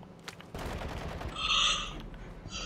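Gunfire in the video game Warzone, a muffled burst of rapid shots rolling into a louder, dense volley with a bright ringing tone over it, heard at a moderate distance without talk.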